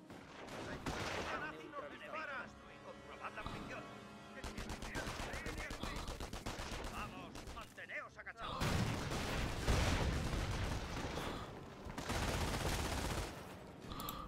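Battle gunfire in Company of Heroes, a World War II strategy game: sustained, loud bursts of machine gun fire and rifle shots with heavier blasts toward the end, under a man's occasional speech.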